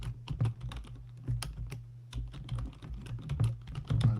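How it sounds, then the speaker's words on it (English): Someone typing on a computer keyboard: a quick, irregular run of close clicking keystrokes in bursts with short pauses, heard alone at low level. "I'll type it into the chat here."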